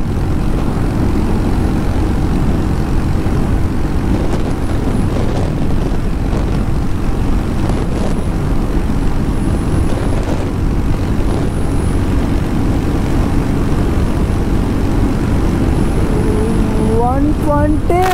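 Royal Enfield Hunter 350 motorcycle accelerating during a top-speed run: a continuous loud engine drone with heavy wind rush, steady and close throughout, with a rising whine at the end.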